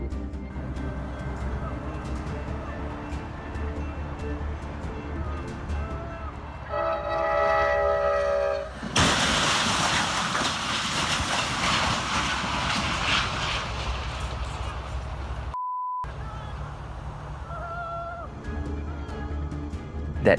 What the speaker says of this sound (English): That Amtrak train obliterated those cars.